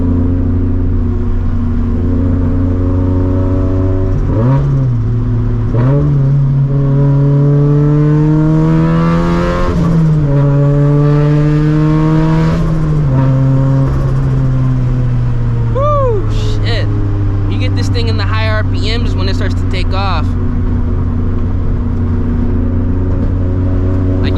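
A 400-horsepower turbocharged Scion FR-S pulls hard, its engine droning loudly up through the revs in repeated rising sweeps, broken by shifts, with crackling exhaust pops later and a voice speaking over it.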